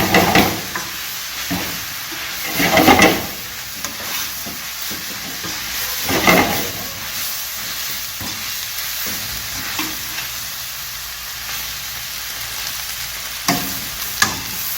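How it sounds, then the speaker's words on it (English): Beef lo mein noodles being stir-fried and tossed in a hot pan, a steady loud sizzle broken by repeated scraping and clattering stirs, no talking. "Go ahead and break those noodles up and get them mixed in"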